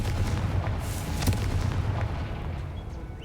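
A Confringo blast curse explodes in Hogwarts Legacy, a booming burst with a rumbling low crackle and a sharp crack near the middle, then a fading tail.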